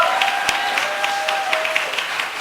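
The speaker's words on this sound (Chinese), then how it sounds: "答对了，用掌声献给耶稣。" A church congregation at a Saturday worship service applauds steadily, a thick wash of clapping with a few sharper individual claps standing out and a faint hum underneath.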